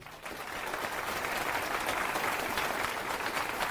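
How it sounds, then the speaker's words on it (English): A FOSDEM 2024 conference audience applauding as speaker Luca is introduced, clapping swelling in after a brief quiet start and then holding steady and full. "So please give a round of applause for Luca."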